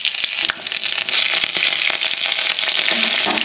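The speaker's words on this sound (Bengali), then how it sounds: "কড়াইতে তেল দিয়ে দেবো। এবার দিয়ে দেবো 5 ফোড়ন আর তেজপাতা।" Panch phoron seeds and a bay leaf fry in hot oil in a kadai, a dense continuous sizzle full of sharp crackling pops, close and loud throughout.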